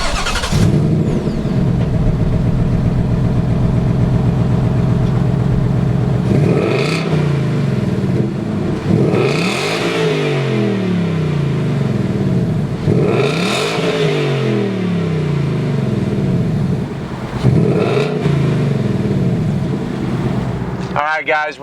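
Several 2019 Ford Mustang GT Performance Pack V8 engines fire up and rev repeatedly, with loud swelling blips rising and falling over a rumbling idle, nearby and outdoors with wind buffeting.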